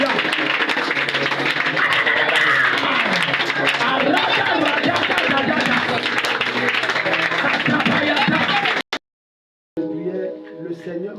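Church congregation applauding and acclaiming during a deliverance service: loud sustained clapping and cheering crowd noise fills most of the stretch, then cuts off abruptly, followed by a brief burst of speech.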